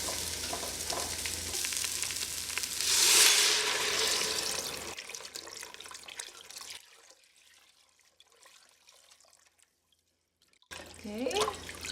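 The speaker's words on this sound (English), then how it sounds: "it's now time to add the water." Water poured into a pot of cooking rice porridge, a rushing splash and sizzle that swells then fades to quiet, followed by a brief stir or clatter near the end.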